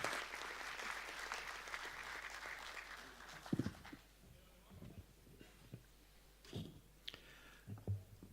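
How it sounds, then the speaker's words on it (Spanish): Audience applause at a local governments dialogue event, welcoming Paco Moncayo, former mayor of Quito: dense clapping for about three seconds that fades into scattered claps and a few voices. "Un fuerte aplauso, por favor, para Paco Moncayo, exalcalde de Quito."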